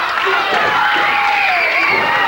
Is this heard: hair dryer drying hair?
no